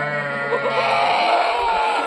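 Kathiawari goats bleat loudly and continuously close by, several wavering cries overlapping from a freshly arrived lot of goats.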